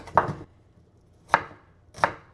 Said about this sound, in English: I always like to cut onion into like this side first and simply cut alongside the fiber